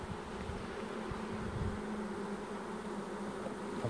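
Honeybees hum steadily at an opened hive in a small Korean apiary, a continuous close buzzing swarm with no voices.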